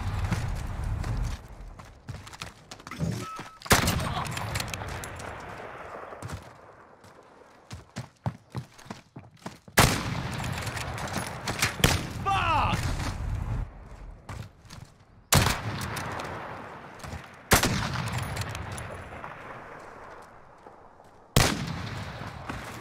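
Gunshots ring out in a one-on-one video game match: several loud, sharp single cracks spaced seconds apart, with quieter clattering, mechanical clicks and footsteps between them.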